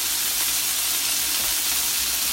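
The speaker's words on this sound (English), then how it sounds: "I wanted to cook a hamburger so that you could see how much of a splatter that" A hamburger patty fries in a pan, giving a steady, loud sizzle of spitting fat that fills the whole clip without pause, with no voices over it.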